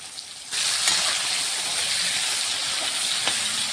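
Potatoes frying in hot oil with salt let out a sudden burst of loud, steady hissing sizzle that keeps going evenly after a short quiet start.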